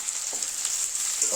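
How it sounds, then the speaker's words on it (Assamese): Onion, ginger and garlic frying with cloves and cardamom for a Khandeshi chicken gravy, a continuous bright sizzle with faint stirring, close and steady. "পিঁয়াজখিনি অলপ ধুনীয়াকৈ ভাজি ল'ম।"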